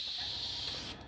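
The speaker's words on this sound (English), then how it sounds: "I'm just spraying." An airbrush sprays during a quick shallow clean, giving a steady close hiss that holds evenly and then cuts off at the very end.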